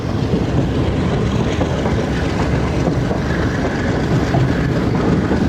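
Shalimar Express passenger train picking up speed on the Lahore to Karachi route, a loud steady rumble and rush of wheels and wind heard from inside the carriage, with no talking.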